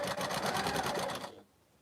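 A sewing machine stitches a quilt seam in a fast, steady mechanical rattle for over a second, then stops abruptly and leaves quiet room tone.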